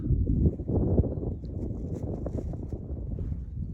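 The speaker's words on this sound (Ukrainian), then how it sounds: "Вітер дуже сильний тут." Steady, loud wind on a mountain buffets the microphone with a low, continuous rumble that swells and gusts throughout.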